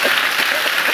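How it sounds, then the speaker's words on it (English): Dense, steady applause fills the room as a conference audience claps after a talk, with a continuous even patter and no pauses. "Round of applause"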